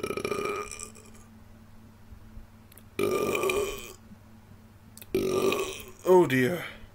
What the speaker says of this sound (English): But first, I'm going to burp.